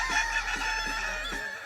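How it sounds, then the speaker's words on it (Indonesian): A kukuak balengke rooster, a West Sumatran crowing breed, gives one loud, close, sustained crow that holds its pitch with a slightly wavering rhythm for over a second before cutting off. "Jadi ini dia ayam kukuak balengke"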